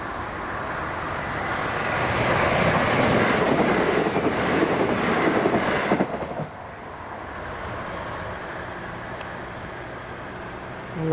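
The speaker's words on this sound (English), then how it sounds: "So it's the train coming from Minster." Train from Minster pulling into Thanet Parkway station, a broad rumbling roar with rail clatter that builds over several seconds, then drops abruptly to a steady, quieter hum as it slows.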